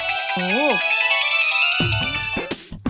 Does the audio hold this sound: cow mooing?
no